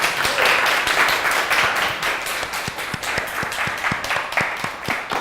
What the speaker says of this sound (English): it's an American tradition that you clap as long as I spoke